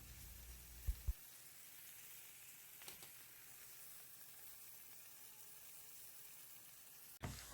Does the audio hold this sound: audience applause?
no